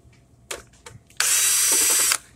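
A power drill bores into a fluorescent light fixture plate while a T12 ballast is being fitted. A few short clicks and bursts come first, then one loud, steady whir about a second long, close up.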